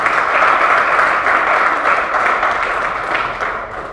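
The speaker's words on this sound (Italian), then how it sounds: "un applauso" Steady, loud applause from an indoor crowd at a 2019 presentation of the Virtus Civitanova sports team, a dense wash of clapping that fades slightly toward the end.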